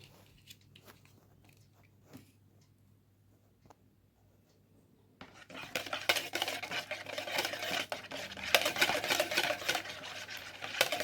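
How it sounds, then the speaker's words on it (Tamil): A single egg is beaten with a little salt and vanilla essence in an empty bowl. The first half is near-silent; then brisk, steady, close-up whisking and scraping starts and continues to the end. "ஒரு எம்டி பவுலில் ஒரே ஒரு எக்கை சேர்த்து அதோட கொஞ்சமாக சால்ட்டு, வெனிலா எசன்ஸ் சேர்த்து பீட் பண்ணி எடுத்துக்கணும்"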